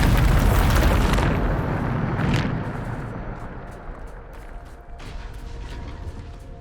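Bombarda explosion spell in Hogwarts Legacy: a loud, heavy blast that fills the start, then a rumbling decay with a second smaller burst, fading into softer debris and crackle.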